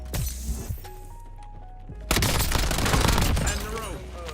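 Bursts of video game gunfire crackle densely through the second half, loud and close, after a quieter stretch with faint tones and scattered shots.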